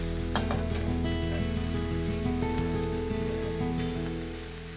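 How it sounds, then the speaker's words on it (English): Broccolini and king oyster mushrooms sauté in a pan with a steady, close sizzle and occasional stirring scrapes, continuous throughout and easing slightly at the end; no voices. "King oyster mushrooms. Saute for 3 to 4 minutes."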